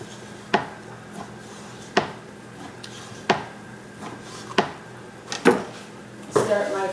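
A kitchen knife chops through a flattened eel on a cutting board, with about seven sharp, separate thuds at uneven intervals and a little board and utensil clatter between them.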